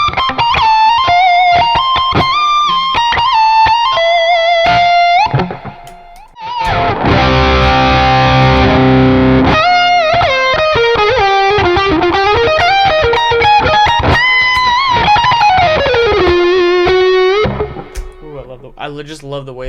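An electric guitar plays a melodic lead through an Archetype: Plini amp simulator, drenched in delay and reverb, notes ringing and echoing into a big, spacious wash. No one speaks.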